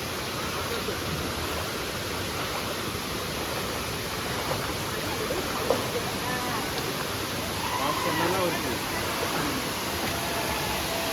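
Savatkada waterfall in Rajapur, Konkan, pours with a loud, unbroken roar of falling water, close and steady, while voices talk now and then under the rush.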